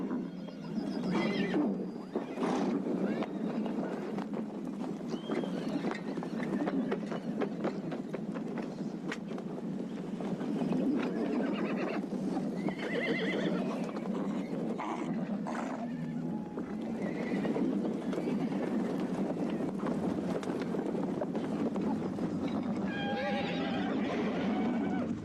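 A herd of about a thousand horses in a film scene neighs and whinnies repeatedly over a constant dense rumble of hooves and wind, loud and continuous with no speech.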